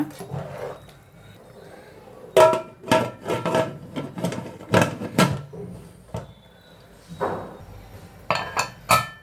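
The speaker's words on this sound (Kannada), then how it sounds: "ಒಂದು ಸತಿ ತಿರುಗಿಬಿಟ್ಟು ಕುಕ್ಕರ್ ಲಿಡ್ ಹಾಕ್ಬಿಡೋಣ." A metal pressure cooker lid is fitted onto a pot of paneer biryani rice, producing bursts of clanking, clinking knocks separated by brief quiet moments.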